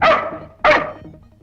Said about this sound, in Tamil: ஏன் உன்னை பார்த்து நாய் குலைக்குது அடிக்கடி